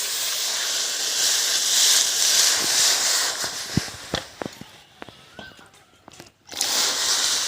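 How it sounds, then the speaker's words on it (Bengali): Water poured into a hot wok to boil jackfruit gives a loud, close, steady steaming hiss, then thins into scattered knocks and clatters before the hiss rises again. "কাঁঠালটাকে সিদ্ধ করার জন্য কড়াইয়ে দেব জল।"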